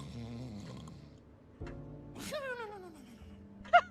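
A person imitates loud snoring with a drawn-out, rasping inhaled snore followed by a wavering, falling exhale, then a short sharp puff of breath, heard alone and close.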